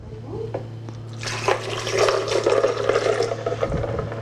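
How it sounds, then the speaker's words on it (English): Water and ice pour into a blender jar while a healthy drink is made, a steady splashing fill lasting a few seconds over a low background hum. "The ice and the water, get our liquids in there."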